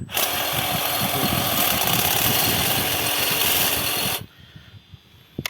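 A Stihl HSA 45 battery hedge trimmer cutting lavender, with a loud, continuous buzzing whir from the blades close by that runs for about four seconds and then stops abruptly, leaving near silence.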